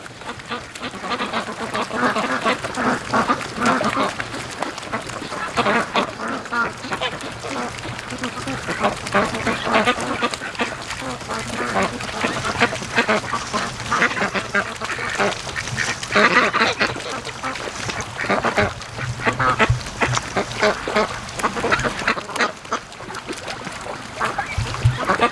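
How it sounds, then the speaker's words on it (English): A flock of free-range ducks quacking loudly and continuously, excited to be let out in the morning, a dense overlapping chorus close by with a person talking over it. "The ducks were seriously wound up this morning. They were loud."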